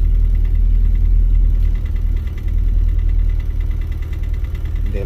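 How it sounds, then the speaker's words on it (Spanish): A car engine idles steadily at close range, a continuous low rumble with a faint mechanical whir and slight vibration, with no voices over it. "Pues ya arrancamos el carro"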